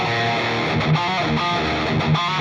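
Electric guitar through a loud 100 watt amp head switched to the lead channel with Line 6 HX effects, saturated sustained distorted notes with a couple of accented picks, dense and unbroken.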